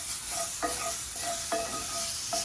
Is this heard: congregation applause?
no